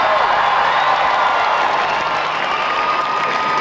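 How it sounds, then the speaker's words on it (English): A studio audience claps and cheers at a 1996 MTV music awards preparty, dense and loud applause with whoops that stays steady throughout. "you can sort of applaud and cheer and stuff, and we can see how loud you are."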